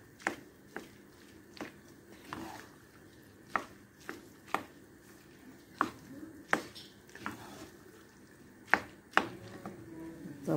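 Macaroni with corn is stirred in a pot, a spoon scraping and knocking against the sides in a steady series of sharp taps, close and fairly quiet.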